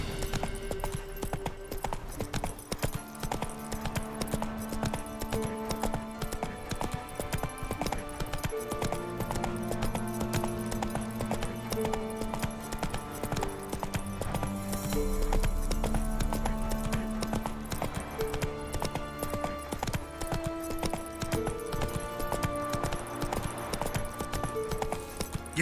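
Hooves of a galloping horse in The Witcher 3 beat in a fast, steady clip-clop rhythm, close and continuous beneath a layered game music score.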